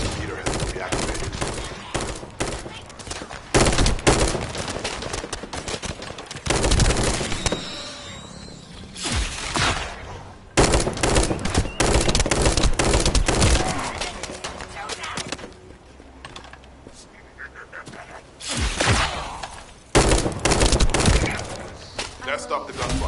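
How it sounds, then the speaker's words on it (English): Gunfire rattles through a session of the shooter video game The First Descendant: loud, rapid bursts of automatic shots come in repeated volleys with brief lulls between them. "Now stop the gunfire."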